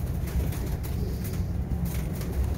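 Caged pigeons coo nearby in low, throaty, overlapping murmurs that run steadily throughout, with faint background noise.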